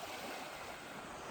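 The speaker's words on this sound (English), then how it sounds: "Here we are on the beach." Ocean surf washing onto a sunny beach in Penang, Malaysia, with water tainted by sewage, makes a steady, faint broadband wash with no distinct wave breaks and no voices.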